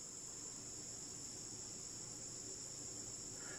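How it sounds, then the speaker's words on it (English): A toy grasshopper gives a continuous, even insect chirring, faint and steady for a few seconds with no voices. "Grasshopper."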